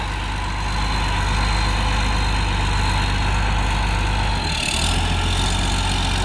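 A road grader's heavy diesel engine runs steadily while grading dry, rutted spots, a loud constant low rumble with a brief dip and shift around the four-and-a-half-second mark as gears change.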